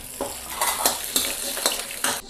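Spices stir-fried in hot oil with large chunks of scallion and ginger in a wok, a steady sizzle broken by several sharp scraping stirs of a spatula, close and fairly loud with no talk.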